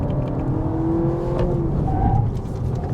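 A 2022 Honda Civic e:HEV hybrid plays a synthetic engine note while downshifting with the paddles, giving steady tonal drones that shift in pitch over a constant road rumble.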